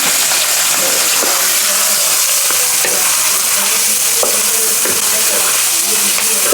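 Minced meat and mixed vegetables sizzle steadily in a hot pan while being stirred, with a dense continuous frying hiss and occasional scraping knocks of the utensil throughout; no talking.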